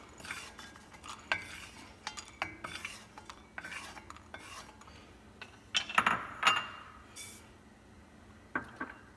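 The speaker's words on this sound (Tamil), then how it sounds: "கசகசா ரெண்டையும் நல்லா வந்துட்டு ரோஸ்ட் பண்ணிக்கிறேன்" Sesame and poppy seeds dry roasting in a pan, a quiet scraping stir with light metallic taps and faint crackle, repeated irregularly at close range with no talk.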